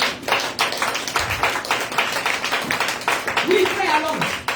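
A church congregation claps steadily and rhythmically at a Sunday praise and worship service to acclaim Jesus, with a voice speaking and singing over the claps.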